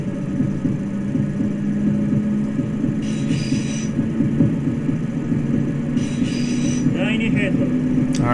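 A train in the Densha de Go! driving game rumbling along the track at speed, with steady wheel noise, intermittent high squeals and clicks over the rails, loud and continuous throughout.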